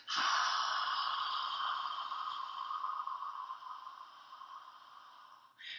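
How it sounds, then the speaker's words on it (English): Ujjayi yoga breath drawn through a narrowed throat gives a long, steady, whispery hiss like Darth Vader's breathing, close and alone, fading slowly over several seconds before a brief fresh intake at the end. "So it kind of sounds like Darth Vader breathing."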